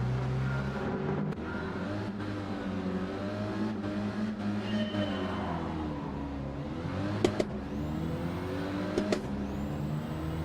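Clio Cup race car engine revving at the start of a race, a loud steady engine drone with rising pitch sweeps and a few sharp bursts, close and continuous with no talk.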